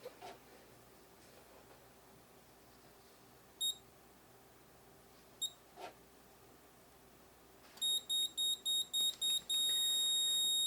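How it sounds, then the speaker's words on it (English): Moose Z1100e alarm keypad in a salesman's demo briefcase sounding a quick series of sharp electronic beeps, which end in one long steady tone, confirming a successful report after a few isolated chirps over faint background hum. "That series of beeps that sounds like a defibrillator in a movie confirms that the report was successful"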